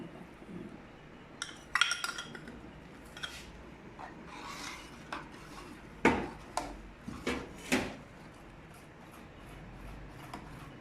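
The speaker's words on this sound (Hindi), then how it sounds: "इसमें मुसलसल चम्मच है जो वो चलाते रहना है, इसमें गुठलियाँ ना बने" A spoon stirring custard into boiled milk in a pot, soft scraping and intermittent clinks against the metal, fairly quiet and close with no talk.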